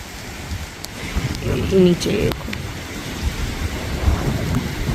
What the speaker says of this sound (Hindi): ये हो रही है बारिश